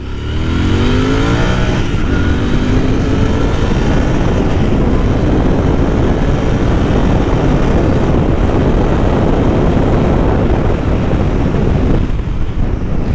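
Royal Enfield Continental GT 650 motorcycle engine revving hard on an open road stretch, rising engine harmonics climbing as it accelerates, loud and close with steady wind rush throughout.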